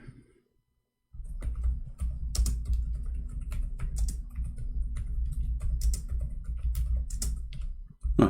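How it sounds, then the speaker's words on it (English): Someone types Arabic text on a computer keyboard, a rapid stream of close, crisp key clicks that starts after a short pause and runs on steadily, with a few sharper taps near the end. "I'm typing Arabic."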